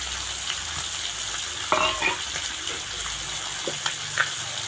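Chopped tomato with ginger garlic paste frying in a pan, giving a steady close hiss of sizzling with a few brief clinks and scrapes as it is stirred.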